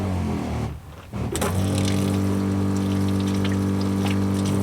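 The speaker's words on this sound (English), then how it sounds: "But we do have water now too." A water pump in an outdoor mobile woodshop starts up after a short lull and runs with a loud, steady hum, water rushing continuously alongside it.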